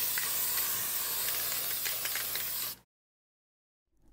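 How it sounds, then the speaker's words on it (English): A steady aerosol spray of matte varnish onto a painted miniature figure hisses close up for under three seconds, then cuts off abruptly into silence. "we give the figure a spray of matte varnish"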